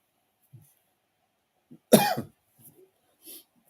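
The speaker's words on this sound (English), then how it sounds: "Excuse my cough." One sharp, close cough stands out amid near silence, with a few faint small noises around it.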